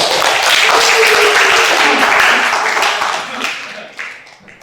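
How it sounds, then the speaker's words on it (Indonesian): A classroom of students clapping at the end of a group activity, a loud, close burst of many hands that stays dense for about three seconds and then breaks up into scattered claps. "Tepuk tangan."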